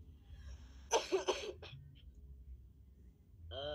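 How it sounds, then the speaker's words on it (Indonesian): A short burst of three harsh, close coughs in quick succession, followed by quiet breathing. "mohon maaf kalau dalam penyampaian saya nanti ada terganggu dengan suara batuk saya mungkin"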